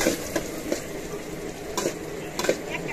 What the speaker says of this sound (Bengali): নুডলস রান্না করবো, তো এই জন্য পেঁয়াজ কুচিটা দিয়ে দিল।